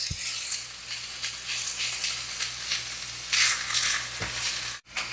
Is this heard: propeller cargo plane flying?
no